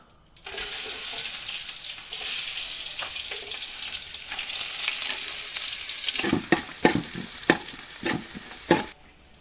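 Mustard seeds frying in hot oil in an outdoor pondside cooking setup, a steady loud sizzle with a run of sharp popping crackles and clinks toward the end.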